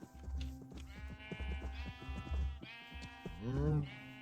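Sheep bleat repeatedly in a blocky sandbox game, several wavering cries overlapping in quick succession with clip-clop steps, the last bleat loudest and drawn out.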